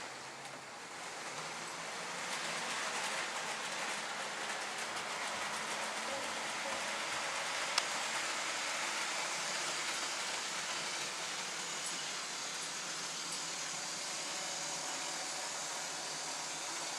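Model train rolling through staging yards on a layout, a continuous soft hiss and rattle of wheels on track that stays even and fairly close, with a single brief click partway through.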